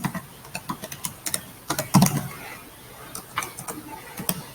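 Keystrokes on a computer keyboard while a Facebook post is written, heard as irregular clusters of close, light clicks with short pauses between bursts.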